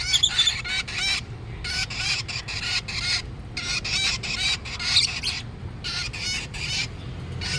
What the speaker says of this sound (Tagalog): May dalawa kayong ibon na handfeed.